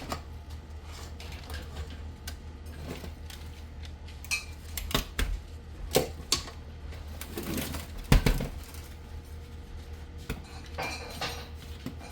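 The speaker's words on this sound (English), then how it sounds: "Someone's gotta scoop the cookie dough." Cookie dough scooped from a bowl with metal utensils, giving scattered scrapes and clinks against the dish over a low steady hum, moderately close and fairly quiet.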